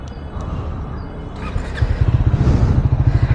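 Triumph Scrambler 400 X motorcycle, 39.5 bhp, idles low and then revs up, its exhaust turning into a close, loud, rapidly pulsing throb.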